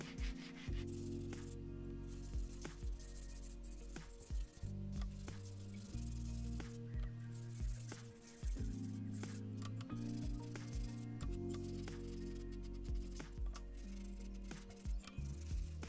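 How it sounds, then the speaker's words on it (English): Wooden key-rack pieces cut from an old step ladder are sanded by hand to take off rough edges, a close scratchy rubbing in long back-and-forth strokes with brief pauses and no talking. "And then a final hand sanding, taking off all the rough edges."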